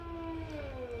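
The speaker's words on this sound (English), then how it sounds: "I can hear the sentry 10V over there." A Sentry 10V civil defense siren wails in the distance as a steady, faint tone that slowly slides downward in pitch, heard alone over low background rumble.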